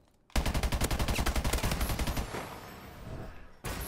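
Rapid automatic gunfire from a first-person shooter game rattles in a fast, even burst of shots for about two seconds, then tails off into fainter echoing noise before a short final sound.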